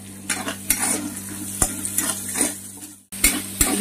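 Ginger, chilli and garlic frying for a curry while being stirred in a pan, with steady sizzling broken by sharp scraping clacks of a spoon against the metal, close up, with no talking.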